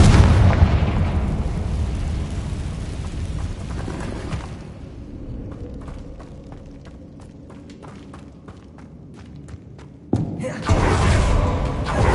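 Confringo explosion spell cast in the video game Hogwarts Legacy, a loud blast rumbling under game sound, followed by a run of sharp crackling pops and a second heavy burst near the end.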